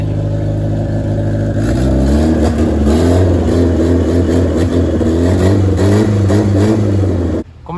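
A Fiat 147 with its original engine revving hard, a loud, close mid-pitched engine note rising and wavering with clattering mechanical texture, then cutting off abruptly at the end.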